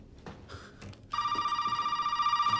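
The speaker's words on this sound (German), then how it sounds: "Ja, so, Telefon, ja gut. Wer stört denn schon wieder?" A telephone in the Resident Evil 7 video game starts ringing partway through, a loud, steady electronic bell trill that follows quieter footsteps and ambient game noise.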